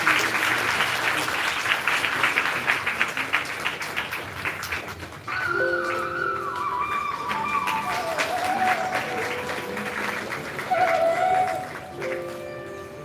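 An audience at a Karnatak University Dharwad event claps loudly for about five seconds, then the applause gives way to a melodic sequence of sustained tones.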